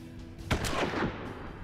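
A gunshot in the Hard West video game fires as one sharp, close blast, with a rolling echo decaying over the following half-second against a low ambient bed.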